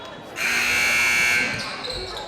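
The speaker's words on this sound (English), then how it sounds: "That was a missed buzzer there, accidental buzzer." An accidental buzzer sounds at a high school boys basketball game in a gym, one steady electronic tone lasting about a second, loud against the arena's background murmur.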